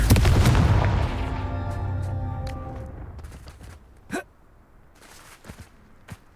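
A Confringo fire blast spell exploding in Hogwarts Legacy, a loud booming burst that rings out and slowly fades, followed by a few scattered sharp cracks and thuds.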